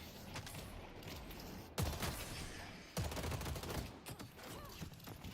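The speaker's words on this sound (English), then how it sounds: "Now they're shooting." Video game gunfire rattles in dense, continuous volleys, with sharper shots cracking through a constant battle din.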